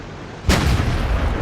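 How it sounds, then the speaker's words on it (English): A tank cannon in the World of Tanks video game fires once, a sudden loud boom after a quiet lead-in, followed by a rumbling decay. "The VK tries to return fire"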